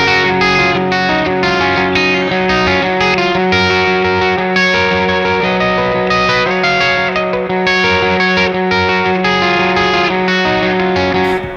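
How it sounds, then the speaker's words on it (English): A guitar played through the spring reverb of an Orange Rockerverb amp rings out with lush, washy sustained chords and a continuous reverberant tail, loud and alone with no talking. "It's a very nice spring reverb."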